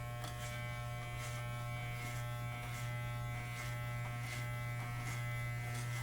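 Electric hair clippers buzz steadily while cutting hair, a close, constant motor hum with brief rhythmic swells as the blades pass over the scalp, no voices present.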